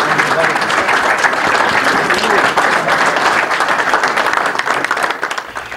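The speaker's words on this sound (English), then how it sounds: "Scalise gets a standing ovation from the Texas crowd" A Texas crowd gives a standing ovation to Majority Whip Steve Scalise, with steady, dense applause and clapping that holds loud and unbroken throughout, voices mixed into the roar.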